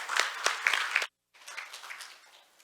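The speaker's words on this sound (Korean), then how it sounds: "큰 박수로 맞이하여 주시기 바랍니다." Audience at the 2021 Jeju Forum applauds to welcome a speaker: lively close clapping with sharp individual claps, a sudden brief gap, then thinner applause that tapers away.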